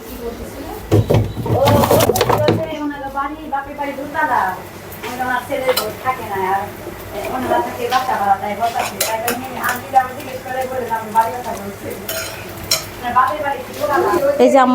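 Vegetable curry being stirred and fried in a metal pan, with utensils scraping and clinking against the pan under a faint sizzle, and a voice talking over most of the cooking.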